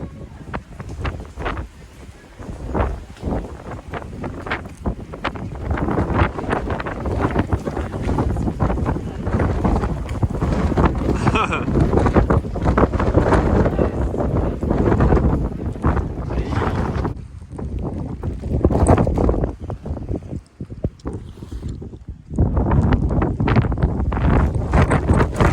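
Strong wind roars and buffets the microphone in heavy, continuous gusts, briefly easing before surging loud again.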